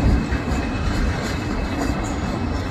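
A freight train rolls past on railway tracks nearby, a loud, steady rumble with continuous wheel and rail noise and no talking.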